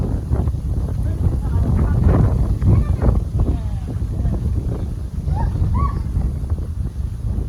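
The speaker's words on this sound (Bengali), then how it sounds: "এমন জোরে বাতাস ছাড়ছে মনে হয় যে বাতাসে ধাক্কা দিয়ে ভাড়াই দেবো" Strong storm wind gusts across an open field by a mango orchard, a loud, continuous, buffeting roar with heavy low rumble against the microphone for the whole stretch, plus a few faint chirps.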